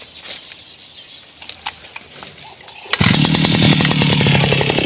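A small two-stroke earth auger engine kicks in abruptly and runs loudly at a steady buzzing rev, after a few seconds of quiet rustling and clicks, on a farm.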